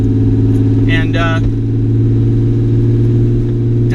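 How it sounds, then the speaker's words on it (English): BMW E30 Touring with an M20B25 inline-six under way, a loud, steady engine drone with strong low harmonics from inside the car, briefly joined by a short spoken word. "So I figured I'd take this car for a drive really quick just to kind of see what it's capable of"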